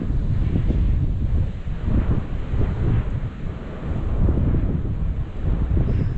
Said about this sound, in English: The wind is really pushing on the line.